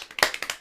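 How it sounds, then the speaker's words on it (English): Hands slapping a bare belly: six quick, light claps in an even rhythm, close and fleshy, with no talking. "I liked your little claps on your belly."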